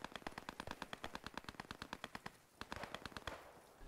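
Rapid automatic gunfire rattles in quick bursts of sharp shots in the World War II shooter game Post Scriptum, fairly distant and quiet, with a short pause in the middle before the firing resumes.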